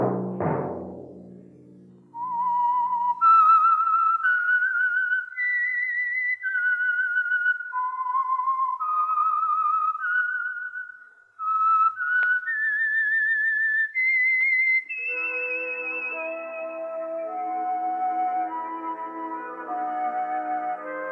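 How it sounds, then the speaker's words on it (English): A clear, tuneful whistle carries a short melody of sustained notes, stepping up and down, then a brighter orchestral phrase takes over near the end, a radio signal tune. "Let that whistle be your signal"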